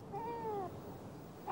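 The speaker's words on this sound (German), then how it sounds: "Also, dann wollen wir dein Kätzchen mal da runterholen." A cartoon kitten gives a single short, high, falling meow, clear and fairly close, followed by quiet background.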